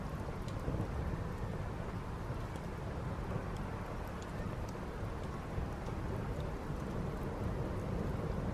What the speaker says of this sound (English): Right, it's just started raining.